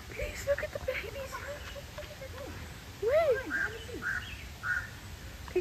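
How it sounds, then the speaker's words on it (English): A duck with her ducklings outdoors in Mauritius gives several short, nasal quacks in a scattered cluster midway through, set against a low background murmur. "there's this duck with her babies"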